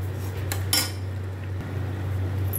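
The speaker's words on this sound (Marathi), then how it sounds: "हा तांदळाचा रवा चांगला भाजून घ्यायचा आहे त्याच्यामध्ये" Rice semolina roasts in ghee in a kadhai while a spoon scrapes and stirs, giving a few sharp metallic clinks over a steady low hum, with no talking.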